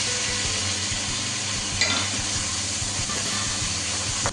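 Onions fried golden brown with ginger-garlic paste sizzle steadily in a pan as tomatoes go in, with continuous close frying hiss and a few stirring scrapes, no talking.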